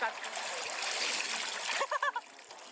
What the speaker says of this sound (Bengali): গাইস দেখো আমি সাঁতার শিখে গেছি, সাঁতার কাটছি।